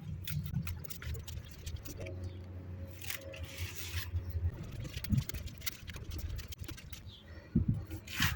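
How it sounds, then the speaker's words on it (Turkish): Small scissors snipping lettuce leaves off at the base, a run of soft, close crisp snips and leafy rustles, quiet and irregular, with brief handling noises between cuts. "Şöyle diplerinden kesiyorum makasla küçük makasla."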